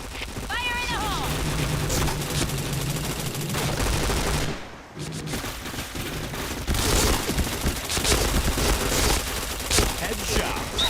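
Rapid bursts of gunfire from the shooter video game Point Blank crackle almost nonstop, loud and close, with game voice callouts and a brief lull midway before the shooting resumes.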